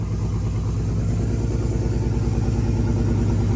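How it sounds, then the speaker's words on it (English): A BMW E30 M3 fitted with an S54 engine running after starting, a steady low rhythmic idle close by with an even pulsing throb and no voices. "give it another start. Should fire right up now"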